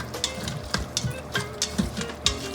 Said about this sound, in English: So let's saute this